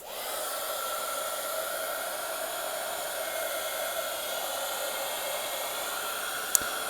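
A hair dryer blows steadily to dry paint and Mod Podge on a craft piece, a constant close whooshing hiss with a small click near the end.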